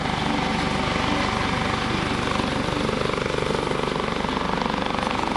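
Coast Guard search and rescue helicopter hovering at an airshow, a loud, steady rotor thump and turbine roar filling the whole stretch without a break.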